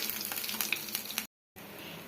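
Mustard seeds fry in hot oil for a tempering poured over kosambari salad: a close, bright sizzle with fine crackles and small pops, briefly cut to silence before resuming.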